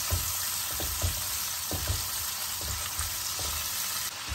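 Chicken pieces fry with sautéed garlic over a medium-high flame, a broad steady sizzle with a few soft periodic stirring knocks and scrapes, no one talking.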